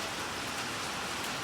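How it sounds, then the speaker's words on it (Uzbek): Heavy rain with hail pours down in a dense, unbroken hiss, a steady wash of drops hitting surfaces at an even, moderate level with no voices. "shunaqa yomg'ir yog'yapti. Mancha do'l yog'yapti shekilli"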